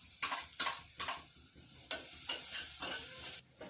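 Cumin seeds and garlic-chili paste fry in hot oil in a kadhai, giving a close, faint sizzle broken by several sharp crackling bursts and spits in quick succession.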